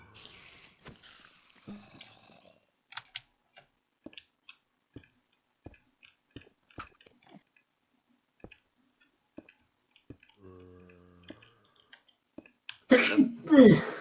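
A single sneeze bursts out loudly near the end, following scattered clicks and faint sounds during a Minecraft session at a spider spawner.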